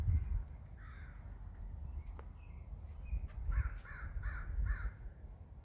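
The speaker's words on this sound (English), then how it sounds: "So I can hear a crow," A crow caws in a series of harsh, distant calls, several in quick succession, over faint outdoor rumble.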